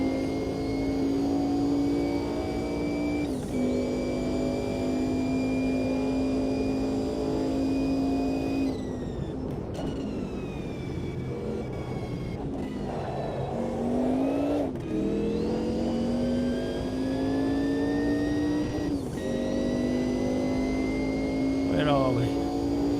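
Racing car in a sim racing game, its engine holding a loud, steady high drone that dips and climbs through downshifts and revs, with a person talking over it at times.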